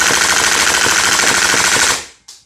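An airsoft HPA gun with an Airtac HYP-9 receiver fires a loud, close, sustained full-auto burst of rapid rattling shots for about two seconds, then stops abruptly with a couple of faint clicks.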